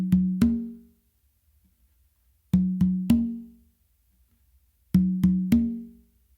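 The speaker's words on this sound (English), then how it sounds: "So I start this pattern with doing two opens with my dominant hand on the tumba" Open tones on congas in a funk a caballo fusion pattern, two on the tumba and one on the conga, played as three sharp ringing slaps repeated three times with pauses between groups, close and clear with no talk.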